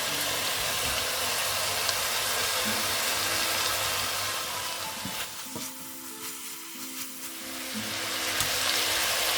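Carrots fry in a pan with chicken, diced onion and garlic, a constant close sizzle that dips briefly midway as the vegetables go in and then builds back with light stirring clicks.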